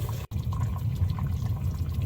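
Sorrel borscht bubbling steadily in a pot over an open wood fire, a continuous close liquid churning with soft gurgles and a brief cut near the start.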